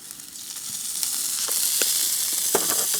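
A ribeye steak sizzles in oil on a camp stove, a steady bright hiss that builds slightly, broken by scattered sharp pops and crackles at close range.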